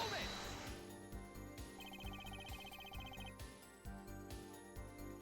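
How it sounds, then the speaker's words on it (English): A telephone rings in the video game Apollo Justice: Ace Attorney as a call comes in to Gavin, a bright, repeating electronic trill pulsing for about a second and a half over steady game music. "Another phone call to Gavin."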